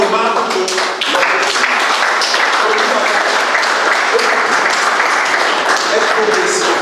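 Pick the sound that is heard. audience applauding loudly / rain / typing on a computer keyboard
audience applauding loudly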